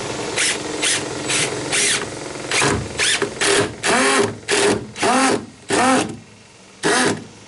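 A power drill drives toenail screws into porch wood in loud, repeated bursts. Each whirring spin of about half a second is followed by a short pause, roughly ten bursts in all, with no talking.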